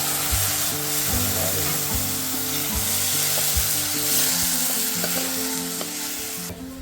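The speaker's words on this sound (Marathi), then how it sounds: "तिकडे तेल तापलेलं, लसूण मस्त परतले" Garlic frying in hot oil for a village-style fish fry, a steady close sizzle that runs unbroken throughout with faint stirring scrapes and knocks under it.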